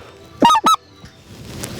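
A hand-held goose call imitates a specklebelly goose with a sharp two-note speck call, two quick, loud, close honking notes, followed by quiet room noise.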